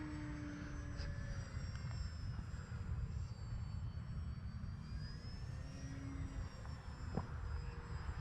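A Durafly Excalibur V2 RC power glider flies overhead with a faint, steady motor whine and airy rumble, wavering slightly in pitch as it passes.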